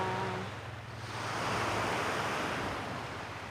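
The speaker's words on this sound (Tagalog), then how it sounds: "Ayan yung dagat namin." Sea waves washing onto a beach, a steady broad wash that swells in the middle and eases off, with wind across the microphone and no talking.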